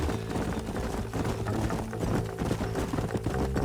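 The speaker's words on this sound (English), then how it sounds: "Let's hold up a minute and find a spot for our horses." Several horses' hooves clip-clop in quick, overlapping rhythm in the Red Dead Redemption western video game, loud and close, with a dense steady beat over a rumbling background.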